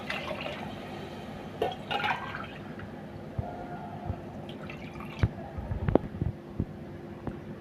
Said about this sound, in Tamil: இப்போ 2 கிளாஸ் அரிசிக்கு 3 கிளாஸ் தண்ணி ஊற்றிக்கலாம்.